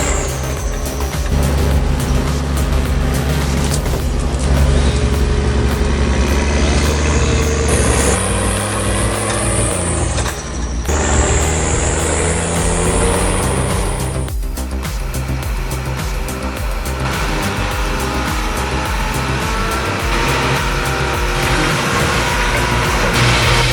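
A 240 HP forestry machine works through big logs, deep mud and roots: a loud, continuous, close engine roar with a high mechanical whine that shifts in pitch and cuts in and out.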